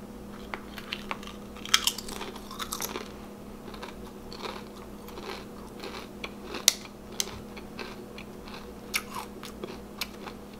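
Cheddar and sour cream Pringles chips bitten and chewed close to the mic, with irregular sharp crunches scattered over about ten seconds, fairly quiet and with no talk.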